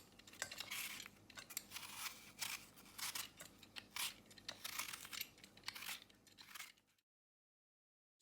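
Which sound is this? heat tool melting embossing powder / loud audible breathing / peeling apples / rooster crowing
peeling apples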